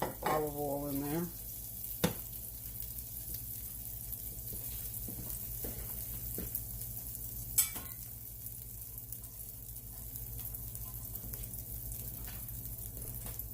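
Onions fry in a couple tablespoons of olive oil, a soft, continuous sizzle with occasional sharp utensil clinks and a brief tonal chirp at the start.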